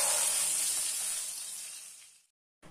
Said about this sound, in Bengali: মাছটা ভাজা হয়ে গিয়েছে, এবার নামিয়ে নেব আর বাদ বাকি মাছটাও ভেজে নেব।